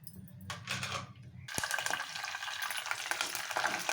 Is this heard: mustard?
yes